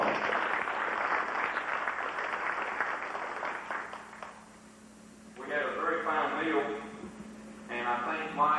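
A room full of people at a 1989 FFA banquet applauding for several seconds, then the clapping fades and a person talks, with a brief burst of clapping near the end.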